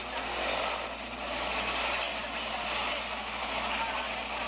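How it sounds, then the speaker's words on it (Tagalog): Busy street traffic of trucks and cars, a continuous broad roar with engine hum and no break, moderately loud and close. "Traffic."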